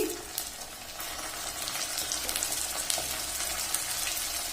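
Spices with cumin, garlic and ginger paste sizzle and fry in hot oil in a pan with browned onions, a steady close crackling hiss that continues throughout with no talking.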